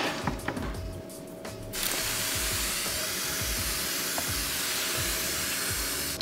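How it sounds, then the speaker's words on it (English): A spray bottle mists a Zilla gecko tank, giving a faint clicking and handling start and then a sustained hissing spray of water that continues to the end. "Then we're gonna spray it."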